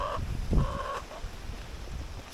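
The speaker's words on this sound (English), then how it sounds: "this is one of my heritage roosters" A large heritage rooster, about ten pounds, gives short hoarse crowing calls, two or three brief harmonic bursts close by over a rumbling outdoor background.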